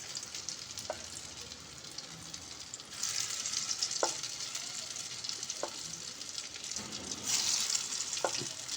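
Red lentil kebabs frying in hot oil, a continuous dense sizzle and crackle with a few sharp spatula clinks, steady and close throughout.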